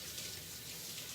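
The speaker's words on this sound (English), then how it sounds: "I gotta wash my hands quick." Tap water runs steadily into a kitchen sink while hands are washed after separating eggs for hot eggnog, a soft continuous splashing hiss at low level with no talking.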